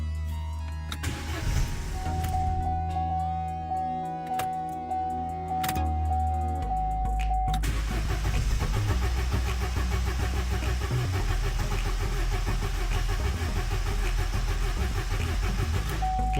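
Vauxhall Corsa with an intermittent non-start fault, engine cranking repeatedly without catching, a steady loud churning whir that drops in pitch partway through, with a faint electronic tone over it.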